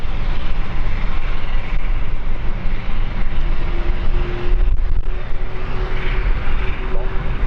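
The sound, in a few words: Embraer jet aircraft arriving at London City Airport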